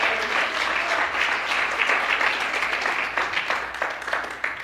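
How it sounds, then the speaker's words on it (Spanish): Loud, steady applause from a church congregation fills the room, dense hand claps continuing throughout without pause. "Dale con esas mismas manos un fuerte aplauso al Señor"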